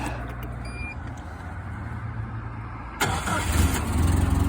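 A forklift engine cranks and catches after a few seconds of low idle hum, then runs louder and rougher, close by.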